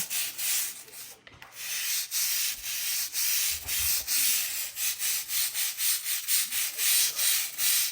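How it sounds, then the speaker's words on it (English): A crevice cleaning brush scrubs with a bleach cleaner in quick rhythmic back-and-forth strokes, close and bristly, with a brief pause near the start and no talk. "we're going to sit there and just scrub it like so"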